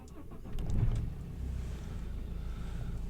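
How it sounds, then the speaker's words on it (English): A BMW car engine, one with a DPF clogging problem and a new EGR valve, cranks briefly and catches, then settles into a steady low idle, close by with no talk. "So you can see the car starts back up, fair dandy"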